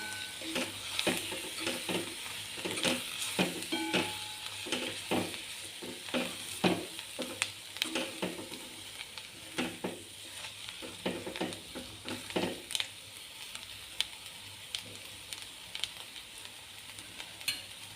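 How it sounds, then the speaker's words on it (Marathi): Chivai leafy greens are stirred and mixed in a pan while cooking, with repeated close scraping and rustling strokes over a soft, steady sizzle and no voices. "आपण ही भाजी मिक्स करून घेऊया"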